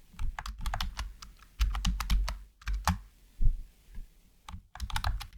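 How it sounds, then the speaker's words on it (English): Keys tapped on a computer keyboard while entering text in GIMP image software, a close, quiet run of irregular clicks in short bursts with brief pauses, no voices. "I will type DaVinci."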